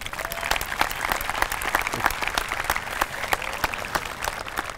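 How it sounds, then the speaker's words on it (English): A high school graduation audience applauds the board members, a broad crowd of clapping with distinct individual claps cutting through, steady throughout. "Give them a round of applause, please."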